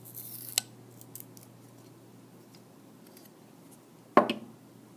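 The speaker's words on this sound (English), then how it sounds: "Cut along that angle." Scissors make a crisp snip through paper along a marked angle, followed by a quiet pause, a soft faint click, and then a louder snapping cut with a rustle near the end.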